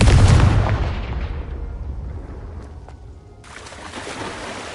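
A Confringo spell explosion in the video game Hogwarts Legacy: a loud, close boom that rumbles and fades over a few seconds, followed by a steadier blast of noise.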